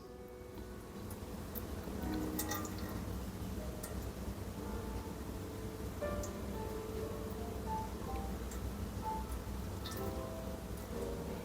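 Water poured over small ceramic tea pets on a tea tray makes a steady, close trickle and patter with scattered drips and light ticks, continuous throughout with no talking.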